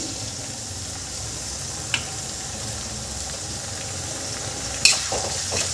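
Chopped tomatoes sizzle steadily in an iron wok as a vegetable dish cooks, a continuous close frying hiss with two brief clinks of a utensil.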